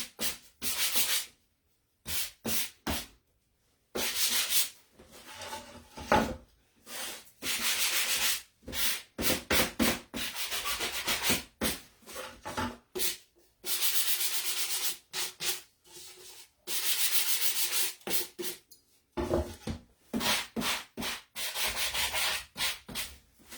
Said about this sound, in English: I want it smooth a little bit, so I got to sand a little bit.